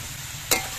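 Chopped tomato and salt land in a pan of frying onions, giving a single quick scrape-and-sizzle burst midway through a faint, low background hiss.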